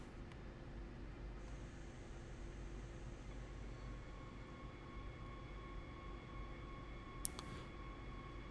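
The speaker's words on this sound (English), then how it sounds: "These trains, they are really easy to drive." A train rumbling along in Train Sim World 2020, a steady low hum with faint tonal whines and a brief high squeal near the end, no talking.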